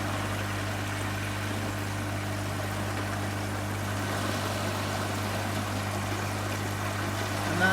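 Water bubbles and churns steadily through the moving bed of a barrel filter, a continuous rushing boil with a low mechanical hum beneath it and no voices.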